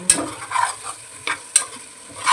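Mushrooms sautéed with masala for biryani, stirred in a pan: short scraping strokes and soft clicks over a gentle close sizzle, with no talking.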